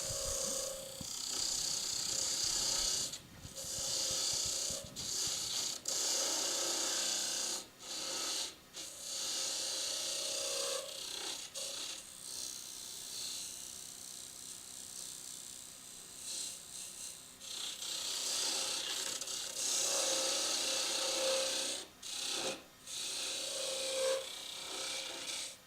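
Steady, raspy scraping of a parting tool biting into spinning wood on a lathe while parting off a rolling pin, loud and continuous with a few brief breaks.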